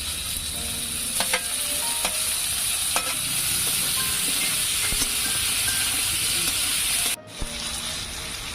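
Tomatoes fry with onion in a pan, producing a loud, steady sizzle up close, broken by a few sharp clinks of a utensil and a brief pause near the end.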